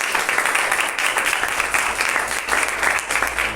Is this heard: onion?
no